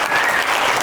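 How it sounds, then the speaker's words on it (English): A short burst of dense, loud audience applause at an interview with a championship gold medal boxer, steady clapping filling the moment with no talk over it. "Let's give him a round of applause for that."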